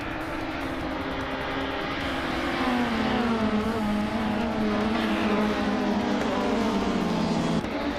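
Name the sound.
race cars starting a race in a video game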